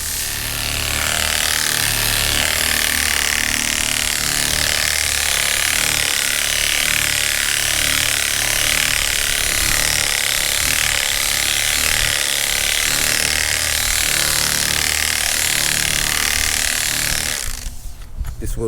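Continuous broadband abrasive hiss of sandpaper worked over a Chevy Trailblazer body panel during bodywork, a steady loud scrubbing that runs almost unbroken before tapering off near the end.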